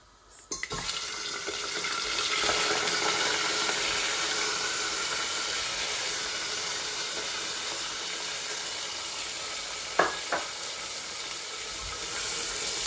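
Onions tipped into hot oil where whole garam masala spices are already frying, for a Bangladeshi country chicken and papaya bhuna; a steady, loud sizzle begins after a brief clatter and continues with no talking.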